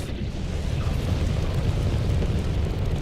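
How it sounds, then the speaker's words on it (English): Panther Clipper ship thrusters in Elite Dangerous, a dense crackling roar like fireworks, steady and loud throughout with no talk. "My God, listen to those thrusters. They sound like fireworks going off."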